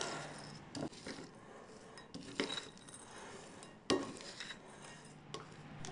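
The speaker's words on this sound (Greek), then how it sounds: "Προσθέτω την κανέλα, το σιμιγδάλι και ανακατεύω να αναμειχθούν." A utensil scrapes and clinks against a pot or bowl as cinnamon and semolina are stirred together, a few soft taps and scraping strokes spaced out over quiet background.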